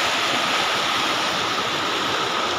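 River water rushes through the Swat valley in Pakistan, a steady, close roar of flowing current that never breaks for the whole moment, with no voices.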